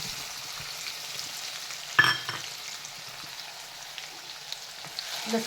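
Garlic frying in hot oil for a spiced amla pickle, a steady close sizzle and crackle with a brief stirring scrape partway through, no talking.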